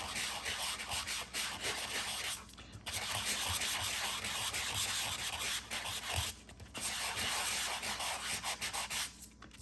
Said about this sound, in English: we can take a little sanding block and we can start to sand that